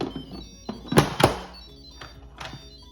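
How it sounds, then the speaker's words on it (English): An Instant Pot lid is set on the pot: a few close, solid thunks and clatters, with two sharper knocks in the middle and a lighter click near the end. "and put the lid on"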